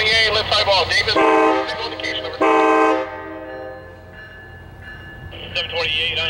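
Amtrak locomotive 2004 sounds loud, sustained blasts of its multi-tone horn while leaving Davis station in California, two long blasts followed by fainter tones and a final shorter blast.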